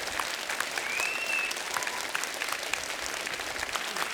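A studio audience claps for a guest on the Kapil Sharma comedy show, a dense, steady wave of applause that holds at an even level for about four seconds with no voices over it.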